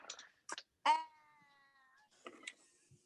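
A house cat meows close by, with a few brief chirpy calls and then one drawn-out, clear meow, followed by faint rustling.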